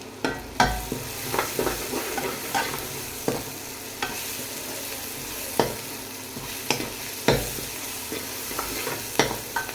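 Kasuri methi dropped into a hot oil tempering for sarson da saag sizzles steadily as a spoon stirs with regular, knocking scrapes against the pan about once a second, close and without talking.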